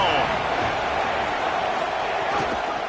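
Stadium crowd roar from a college football video game, Ohio State against Alabama, fills the scene as a dense, steady wash of noise, with a commentator's voice running over it throughout.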